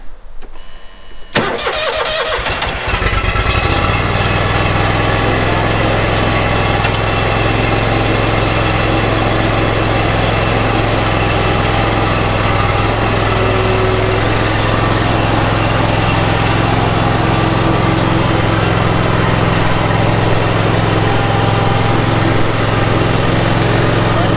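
An Exmark Lazer Z X-series zero-turn mower engine starts up and then runs loud and steady at close range for over twenty seconds, with a constant drone.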